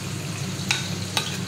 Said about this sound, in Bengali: আলুগুলো ভাজা হয়ে গেছে, পেঁপেটাও ভাজা হয়ে গেছে